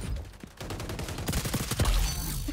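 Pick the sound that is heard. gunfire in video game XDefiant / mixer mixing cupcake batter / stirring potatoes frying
gunfire in video game XDefiant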